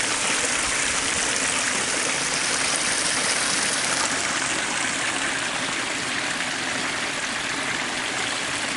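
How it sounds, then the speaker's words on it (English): Cracker Creek Falls, a small waterfall, pours with a constant, full broadband rush of falling water close by, steady and unbroken throughout with no voices. "And here's Cracker Creek Falls."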